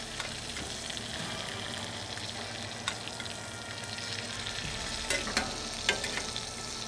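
A ribeye steak searing in a pan, a constant close sizzle with occasional sharp crackles and pops, steady and fairly loud with no voices.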